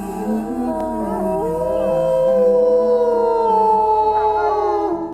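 A pack of wild wolves howls in reply, several long overlapping wavering howls rising and falling together, loud and sustained with no talk over them.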